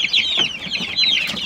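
Several chickens cluck steadily in a farm coop, a busy overlapping chatter of calls that carries on throughout without voices.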